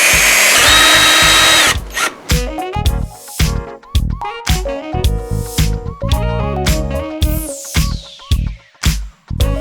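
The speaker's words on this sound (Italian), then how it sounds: "poi con il trapano faccio un foro da 4 mm e alla fine metto il rivetto" Power drill boring a 4 mm hole for a rivet, a short initial whine followed by repeated bursts of loud high-pitched drilling and stops, close and alone.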